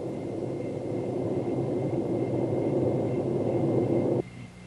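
A Hughes OH-6 small helicopter's engine and rotor produce a steady broad rumbling roar that cuts off abruptly near the end, leaving a faint low hum.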